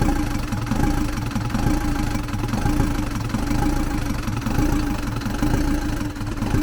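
A Lublin van's engine runs steadily after its valve rockers were replaced, giving a continuous, loud, low rumbling idle with a faint knocking texture throughout and no talk.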